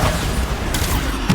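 Bombarda blasting spell cast in Hogwarts Legacy, a loud booming explosive burst with a rumbling low end and crackling debris, followed by another sharp blast near the end.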